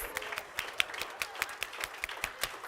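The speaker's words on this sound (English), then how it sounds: "we stand and welcome our mother with a big round of applause" A small audience at a portal launch applauds to welcome a guest, with sparse, distinct claps that ring out individually in an uneven rhythm, moderately close and without talk.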